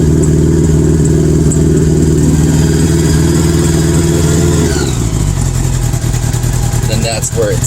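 A 1980 Honda Goldwing GL1100 motorcycle engine running steadily at idle, a loud, close, even rumble that drops slightly in pitch partway through, with some faint handling clicks near the end.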